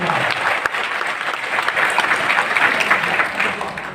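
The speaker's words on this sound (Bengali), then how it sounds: "জোরে একটা হাততালি চাই" Loud, dense applause from an audience at a Vestige business meeting in a party centre in Ashulia, Savar, Dhaka, sustained for several seconds as a continuous wash of many hands.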